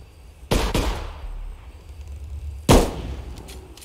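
Two loud, close gunshots fired upward in the video game Bigfoot, set in Yellowstone, each a sharp crack with a short echoing tail, separated by about two seconds of quiet outdoor ambience.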